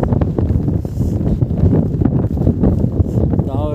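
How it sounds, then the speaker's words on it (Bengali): Strong wind at high altitude on the steep approach to Gurudogmar Lake in North Sikkim buffets the microphone in loud, continuous rumbling gusts, with a voice heard speaking under it. "সিঁড়িটাও ভীষণ স্টিপ, হাওয়াও প্রচুর পড়ছে"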